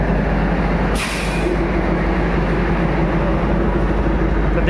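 A train at Bhagalpur railway station in India makes a loud, steady rumble with a brief hiss like an air brake release, heard close up and continuous throughout.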